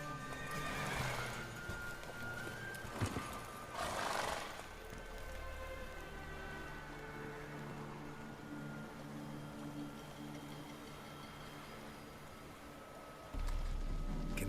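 Roach, a horse in The Witcher 3, gallops with steady clip-clopping hooves and whinnies loudly in two bursts near the start, over soft ambient rain and a low rumble.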